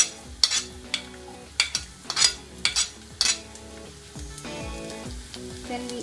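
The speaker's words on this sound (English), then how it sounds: "So the oil is getting heated, so it's okay. See, we can add the sliced garlic now." Sliced garlic drops into heated oil for mutton cutlet and sizzles, with a cluster of sharp spatters and utensil clinks at first, then settling into a steady, softer frying hiss.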